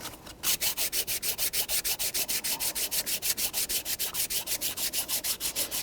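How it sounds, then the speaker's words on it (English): Rapid back-and-forth strokes of a sanding block on aluminum rasp in a steady, even rhythm, about five per second, close and loud, with no talking. "I'll get my sanding block back again."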